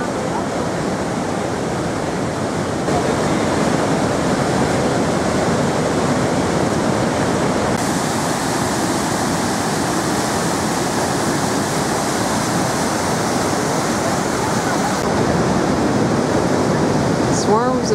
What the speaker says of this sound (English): only on a sunny day when plunging down 2-step falls and into the